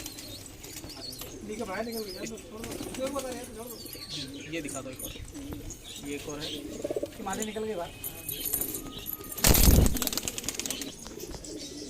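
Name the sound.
high flyer pigeons cooing and flapping wings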